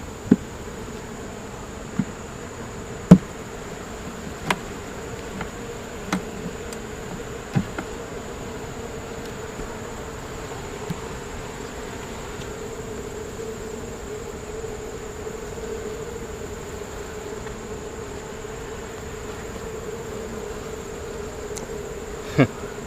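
Honeybees buzz steadily around beehives on a farm apiary, a continuous low insect drone with a few faint clicks and taps scattered through it, no voices.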